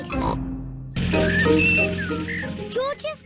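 Cartoon pig Peppa from the animated series oinks in short voiced snorts at the start, then music and other character sounds follow with whistle-like tones, loud and close.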